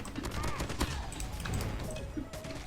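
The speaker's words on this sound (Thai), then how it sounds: "ยิงรถระเบิดเลยเนาะ" Rapid gunfire and explosions crackle in a Call of Duty Mobile match with an M4 LMG, a dense continuous barrage at moderate level as someone talks over it.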